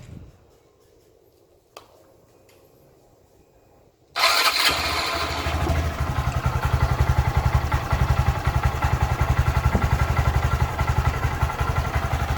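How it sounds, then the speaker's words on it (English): After a few quiet seconds with a faint click, a cold Honda Grom motorcycle with its stock exhaust cranks and fires up abruptly, then settles into a loud, rhythmic, chugging idle. "So let me start it up real quick."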